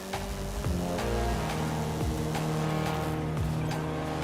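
A car engine roars steadily in Forza Horizon 5, its pitch rising and falling through gear changes, with tire squeal and skidding.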